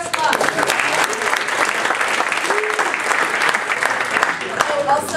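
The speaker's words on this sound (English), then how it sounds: "Everybody give Ben a big round of applause." A roomful of people applauds at a startup pitch night, loud, continuous clapping with crowd noise and some voices talking beneath it throughout.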